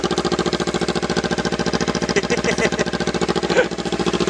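A Kawasaki Versys motorcycle with a bare exhaust pipe idles with a rapid, regular pulsing throb. It is loud and close, with a few brief throttle blips and mechanical clicks partway through.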